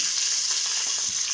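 Finely chopped big onions fry in a hot pan for road-side salna, a bright steady sizzle with light crackle, close and continuous without talk.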